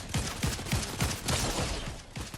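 Rapid gunfire in the video game Fortnite, a dense run of evenly spaced shots about three per second over a constant roar of noise, loud and continuous through the whole stretch.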